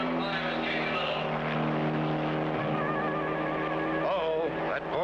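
Cartoon race cars speed around a track, their engines a loud, continuous whine with rising and falling pitch sweeps as they pass, while a voice talks over the roar.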